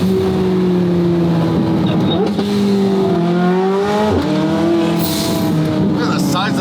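A 1300-horsepower 720 GTR car, driven with its engine light on, accelerates hard, its engine note climbing through several gear changes in loud, close revving sweeps with faint tire noise.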